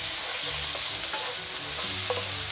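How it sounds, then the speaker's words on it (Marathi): Ginger garlic paste and dried red chillies frying in oil and butter, a steady close sizzle running throughout with a few light utensil clinks and stirring scrapes, no voices. "ह्या आलं लसणाच्या पेस्टला तेलामध्ये आणि बटरमध्ये आपण छान परतून घेऊयात."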